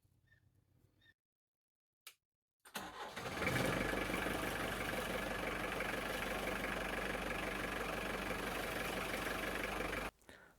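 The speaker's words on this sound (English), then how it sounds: "I'll need to turn on the engine" An engine cranks and starts after a brief silence, then settles into a steady, loud idle for several seconds before cutting off.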